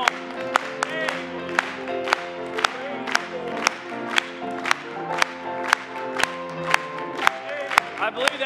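A church congregation claps in a steady rhythm, sharp hand claps about twice a second over sustained singing and organ-like tones, with occasional cheers.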